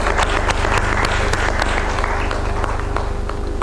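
An audience applauds at a press conference in Lahore, with dense, rapid clapping that holds steady throughout and eases slightly toward the end.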